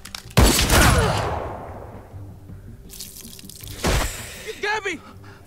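Gunfire in The Walking Dead: Michonne game, a loud sharp blast followed by a long decaying burst, then a second crack later amid shouting and a scream.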